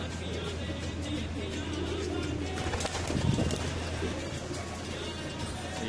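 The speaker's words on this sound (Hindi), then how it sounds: "ये कबूतर पाकिस्तान से आया है" Soft, low cooing from a Pakistani pigeon in a pigeon shop in Jeddah repeats in a gentle rolling rhythm over steady background noise.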